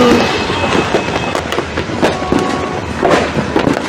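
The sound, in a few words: New Year fireworks exploding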